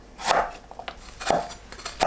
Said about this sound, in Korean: 양파를 다집니다.